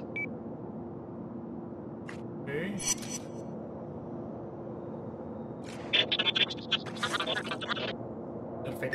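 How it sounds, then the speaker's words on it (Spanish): In the game Infamous, a portable sound device linked to a satellite dish gives out a noisy coded message: hissing static with scattered bursts of beeps and scratchy crackle, while a voice talks faintly underneath. "Se oye mucho ruido. Se trata de un mensaje codificado."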